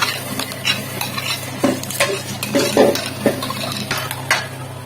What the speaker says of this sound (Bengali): ভালোভাবে মিক্স করে নিব।